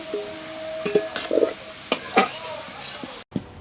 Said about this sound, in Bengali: আলুটাকে লাল করে ভেজে নিয়েছি